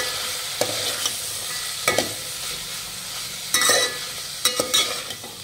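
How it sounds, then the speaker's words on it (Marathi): A spoon stirs turmeric through a sautéing mixture in a pan, scraping sharply a few separate times over a constant frying sizzle, close up and without talk. "यामध्ये घालूयात पाव चमचा हळद आणि मिक्स करून घेऊयात."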